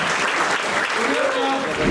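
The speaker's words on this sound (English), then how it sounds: "A round of applause for the guy. Give it up for him." Comedy club audience at a live stand-up show in Canada breaking into steady, loud applause, a continuous wash of clapping lasting a couple of seconds with a voice faintly audible over it.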